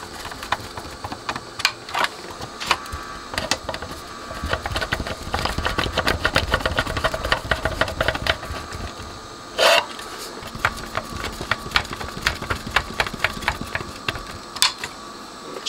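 Screws are driven to fasten circuit boards inside a Kenwood KA-405 amplifier: bursts of close, rapid whirring from a small driver, with sharp clicks and ratcheting ticks between runs, alone without talk.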